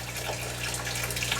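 Water flows steadily through the gutters of a homemade NFT hydroponic system, a close, continuous trickling wash over a low pump hum.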